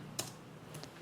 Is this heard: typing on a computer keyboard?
yes